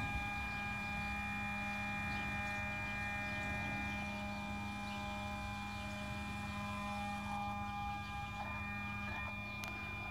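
Mercedes S600 electronic throttle bodies run a learning cycle on a bench, giving a steady electric hum with faint whining tones and a few soft clicks toward the end.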